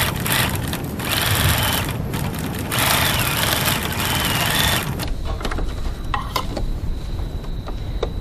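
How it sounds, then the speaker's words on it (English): A sewing machine stitches a bag seam in rapid whirring bursts, a few seconds of fast close stitching separated by short pauses, then quieter handling noises. "I'm going to stitch along here."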